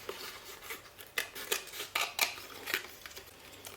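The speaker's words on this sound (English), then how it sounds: "I can get in with my scissors and cut out" Scissors snip paper cutouts in a craft project, giving a quick series of crisp, close cuts with a soft rustle of paper between them and no talking.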